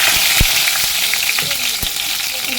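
Dried chilies, cumin and five-spice seeds crackling in hot oil for a bottle gourd and lentil curry, a loud dense sizzle punctuated by sharp pops, close up with no speech.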